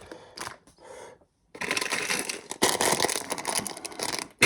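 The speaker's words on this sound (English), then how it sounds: "Hear that? That's the sound of big pieces." Big Lego pieces rustling and clattering, with close crinkly plastic rattles and shuffling that stop briefly and then build into a dense stretch of clacking and rummaging, fairly quiet and without talking.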